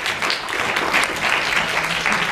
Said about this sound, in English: I need you to clap for Sharon Stone